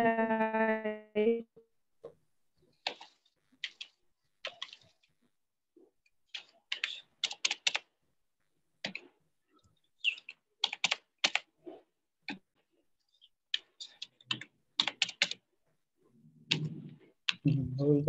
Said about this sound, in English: Who is that using keyboard?